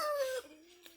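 A chicken on a farm gives a single brief call, a loud harmonic squawk that slides down in pitch and then fades into a softer trailing tone, heard close and alone.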